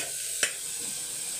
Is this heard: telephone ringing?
no